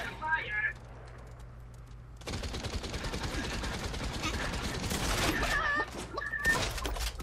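Gunfire in the battle royale game Realm Royale, a dense sustained barrage of rapid shots starting after a quiet moment, with voices talking over the shooting.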